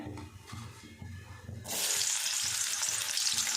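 Green chillies, dried red chillies, garlic and half an onion sautéing in a pan: soft stirring taps at first, then a loud, steady sizzle bursts up as the pieces hit the hot oil.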